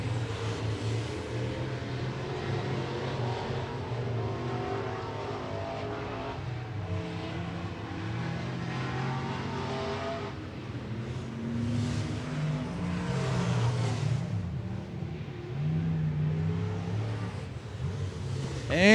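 Street stock race cars at 411 Motor Speedway roar around the oval on the final lap of hot laps and qualifying, a steady loud engine drone that swells and fades as cars pass, with faint talk underneath.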